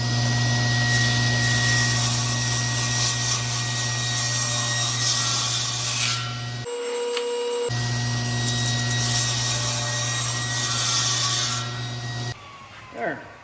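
A power saw cuts wood with its blade height set to clear a notch where 2x4 lumber will rest. It is a loud, steady, whining drone with a strong hum, broken by a brief pause midway and easing off near the end.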